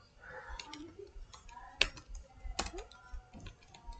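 Typing on a computer keyboard while writing Markdown notes, a scattering of light clicks and taps at an uneven rhythm, close and fairly quiet, with a couple of sharper keystrokes standing out.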